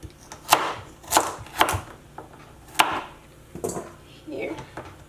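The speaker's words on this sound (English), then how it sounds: "So after I peel my potatoes, just gonna cut it in half." A knife slices through peeled potatoes on a cutting board, giving several sharp, separate thunks spaced about half a second apart, followed by softer, scattered cuts.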